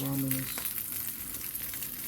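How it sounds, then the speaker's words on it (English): Ramen noodles boil in a pot on the stove, giving a steady, quiet bubbling hiss that carries on alone and unbroken for a couple of seconds. "ramen is boiling nicely"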